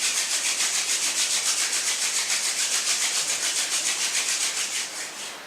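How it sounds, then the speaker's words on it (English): Palms rubbed briskly together, a close, loud, rhythmic swishing of skin on skin repeating steadily at a quick pace before easing off and fading near the end. "And now nicely rub your palms."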